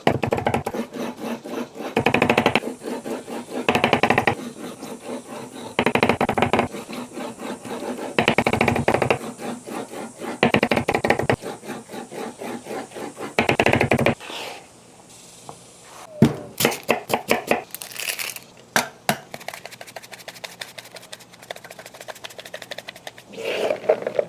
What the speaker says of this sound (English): we can go ahead and cut this down a little bit, just into a rough chop